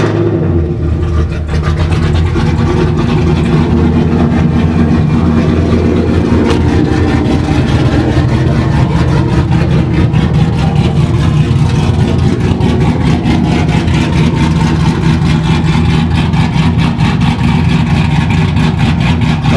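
A GMC Denali with an aftermarket exhaust from a muffler shop rumbles loudly and continuously up close, starting up and then holding a deep, droning engine note with slight revving.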